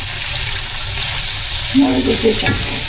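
Mushrooms sautéing with butter and salt in a pan give a steady, loud sizzle throughout, with a brief voice-like murmur near the end.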